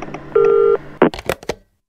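A handful of telephone keypad tones dialed in quick succession, loud and close, with a steady held tone first and then several short separate beeps before silence.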